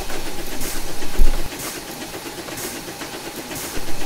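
Rhythmic bursts of steam hiss repeat at a slow, steady pace from a locomotive, with a low chug and rumble underneath.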